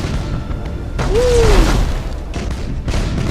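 Starship broadside cannon fire in Battlefleet Gothic: Armada comes as a deep, rolling boom with a rising-then-falling whine riding over it, surrounded by heavy rumbling battle noise and further thuds.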